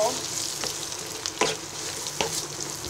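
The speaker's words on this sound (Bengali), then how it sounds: "এবার মশলাগুলো কিছুক্ষণ ভেজে নিব" A paste of garlic, ginger and mustard for raw mango chutney fries in hot oil with a close, steady sizzle. Several sharp scrapes of stirring cut through it.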